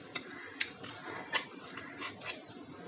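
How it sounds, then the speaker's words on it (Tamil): Mustard seeds and urad dal crackle in hot oil while tempering for paruppu rasam, with a few sparse, sharp pops spread over a soft background hiss. "இப்போ கடுகு உளுந்தம் பருப்பு பொரிஞ்சிருச்சு"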